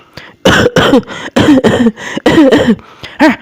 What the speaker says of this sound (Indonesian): dia mendengar suara orang batuk-batuk